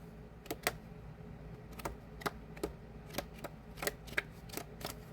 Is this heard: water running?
no